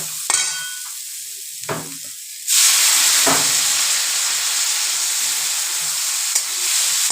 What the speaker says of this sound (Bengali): এবার মশলা কষানো হয়ে গেছে,